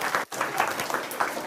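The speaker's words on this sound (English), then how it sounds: "Let's give them a round of applause as a thank you." An audience at a reptile and amphibian presentation gives a brief round of steady clapping, heard close and fairly dense, with a short dip partway through.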